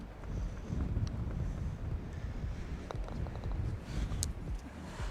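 Strong gusting wind buffeting the microphone on a golf course, a loud, continuous low rumble with rustling and a few faint knocks, no voice heard.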